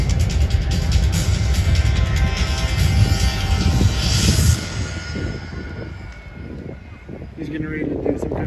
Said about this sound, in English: Our C-17 will now maneuver for its final approach to the assault landing.